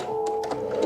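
A sewing machine stitches wedding dress fabric in a quick, steady mechanical whir with light ticking, close by and fairly quiet, with no talk.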